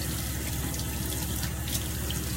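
Tap water runs in a steady, fairly loud stream into a sink while a makeup brush is rinsed under it.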